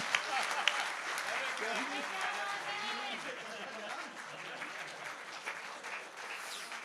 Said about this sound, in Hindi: अरे तालियां बजा दो भाई